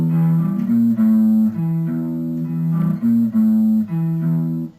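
Sustained electric guitar notes ring out together as chords, changing shape a few times, clear and close, with no talking.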